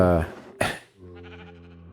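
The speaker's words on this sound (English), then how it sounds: "I put this red sheep in here." Sheep bleating in Minecraft: one loud wavering bleat, then a sharp burst, then a second sustained bleat, close and clear with no talk.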